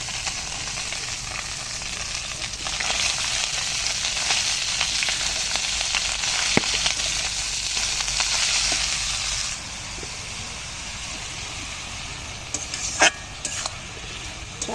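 Thankuni greens frying with puti fish in a pan on a clay stove: a continuous sizzle and hiss with occasional stirring scrapes and clicks, loud and close, with no talk.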